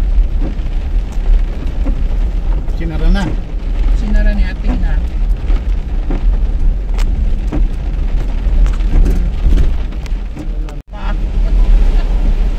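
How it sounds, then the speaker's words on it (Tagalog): Heavy typhoon rain pours during Typhoon Crising along the Infanta Real Highway, a steady dense roar that fills the whole clip while people talk over it. "Ang lakas ng ulan."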